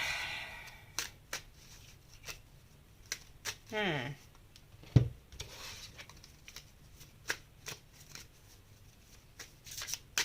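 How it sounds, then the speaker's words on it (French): Tarot cards are shuffled by hand at close range, giving a series of short, crisp riffling and tapping bursts spread over several seconds, with some softer rustling between them and a quiet room behind. "Je bats mes cartes"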